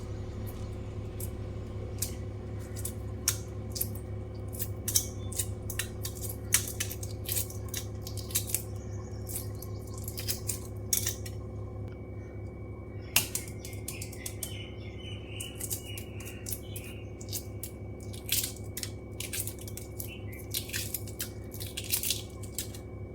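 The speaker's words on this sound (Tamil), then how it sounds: "நான் முட்டை வேக வச்சுருக்கேங்க. இதை இப்போ நம்ம உரிச்சிக்கலாம்." Boiled eggs being peeled by hand, shells cracking and flaking off in a run of small, sharp crackles and clicks over a steady low hum, with no one speaking.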